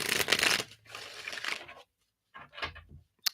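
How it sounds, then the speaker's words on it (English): Tarot cards being shuffled by hand, a few short bursts of crisp riffling and flapping close to the microphone, separated by brief pauses and ending in near silence. "I'm going to shuffle these up real quick here."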